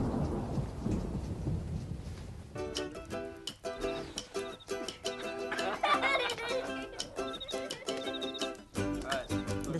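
A thunderstorm opens with a low rolling rumble of thunder, then rain patters amid dense clattering, fairly faint throughout with no talk.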